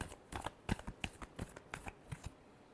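Tarot cards shuffled close up in a quiet room, a run of crisp riffling and flicking bursts with soft taps between them.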